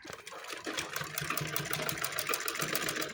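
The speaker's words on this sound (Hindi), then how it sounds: "बिल्कुल किनारे किनारे पे सिलाई लगानी है।" Steady whir of a sewing machine stitching close along the edge of pyjama fabric, a continuous buzzing run with a fast regular needle pulse, moderately quiet and heard alone.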